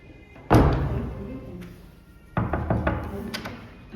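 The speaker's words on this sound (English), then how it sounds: "Automatic door." An automatic door at a hotel in Bhutan sounds with a heavy thud as it opens, a rumbling slide, then a second thump and a few knocks as it closes, all close by.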